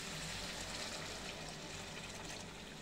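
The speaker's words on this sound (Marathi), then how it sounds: "आता काय करते मग पाणी ॲड करते." Water poured into a cooking pot while making misal with potato bhaji, a quiet, steady pouring and filling hiss that continues unbroken for a few seconds.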